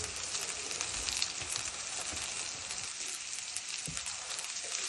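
Onions frying in a pan until brown, giving a steady broadband sizzle with crackling throughout, fairly loud and continuous with no talking.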